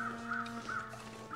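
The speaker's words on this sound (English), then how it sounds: "There are crows right there." Crows caw in the snowy wilderness of the survival video game The Long Dark, harsh repeated calls at moderate distance over a steady ambient drone, with no speech.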